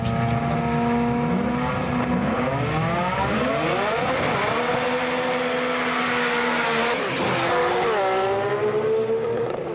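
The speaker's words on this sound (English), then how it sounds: "The black R32 in the right lane was one of the angriest sounding cars at the meet." A black Nissan Skyline R32 GT-R with a heavily modified engine revs hard at a car meet, its loud harmonic engine note climbing and falling through repeated sweeps, continuous and close for the whole stretch.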